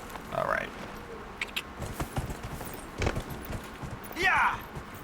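Horse hooves clip-clopping in the video game Dragon Age: Inquisition, a few irregular hollow knocks heard close up over faint ambient game sound, with bursts of a voice speaking.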